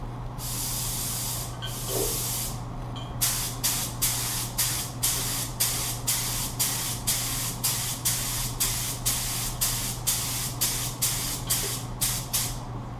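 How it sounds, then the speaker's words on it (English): Spray gun shooting chrome paint for water transfer printing, a few longer hissing blasts followed by a run of short regular bursts, close and loud with no talk. "So we're going to shoot the chrome, and we're going to shoot the sealer."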